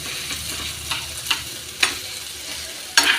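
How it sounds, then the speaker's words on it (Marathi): Finely chopped brinjal being stir-fried with onion in a pan, a steady low sizzle broken by several sharp scraping stirs of the spatula, close and without talk. "आता आपण त्यात वांगी बारीक चिरून टाकली आहे आणि वांगी पण अशी नरम होईपर्यंत मस्त परतून घ्यायचे"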